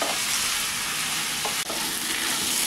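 Chopped onion fries in a pan for a Kerala egg roast, giving a steady, close, even sizzle throughout, with a brief stir or scrape near the middle and no talking.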